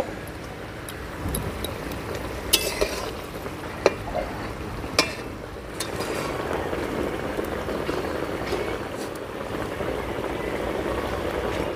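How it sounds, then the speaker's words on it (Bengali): Fried bhola fish being stirred through potato and brinjal in a pan, a steady low clatter and scrape with soft sizzling, a few sharp utensil knocks near the start, continuous and close. "ভালো করে নেড়ে চেড়ে সবজির সঙ্গে মিশিয়ে নিচ্ছি"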